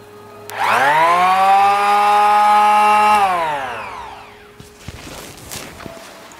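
A DeWALT DWE6411 sheet sander switches on and its motor whines loudly at a steady pitch for a few seconds, then winds down. Scattered clicks and handling noises follow.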